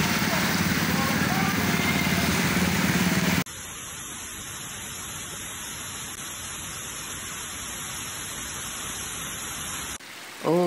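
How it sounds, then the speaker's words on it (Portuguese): Rain falling in the sertão of Pernambuco in northeastern Brazil, a steady loud hiss of downpour, rougher and louder at first, then an even continuous wash after a sudden cut, with no voices. "chuva no Nordeste."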